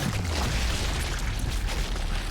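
A sniper rifle shot in Sniper Elite: Resistance lands as a heavy, booming blast, loud and sustained with a low rumble filling the whole moment and no talk over it.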